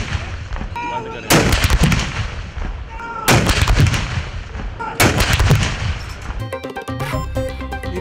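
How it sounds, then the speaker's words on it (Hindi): Booming 21-gun artillery salute fired for Independence Day at a military garrison, with three loud, heavy blasts spaced about two seconds apart, each rolling into a long echoing tail, followed by a crackle of fainter reports. "कतर में यौम आज़ादी पर महफूज शहीद गैरिजन में 21 तोपों की सलामी दी गई।"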